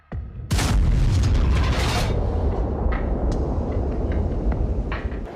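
A cannon firing shells gives a loud, close boom that rolls into a long, heavy rumble lasting several seconds, with no voices.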